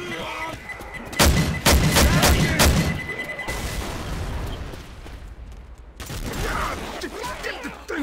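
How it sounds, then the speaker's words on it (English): A pipe bomb goes off in Left 4 Dead 2 amid heavy gunfire, with a burst of loud cracks and booms followed by rumbling noise and further chaotic shooting. "Throwing a pipe bomb."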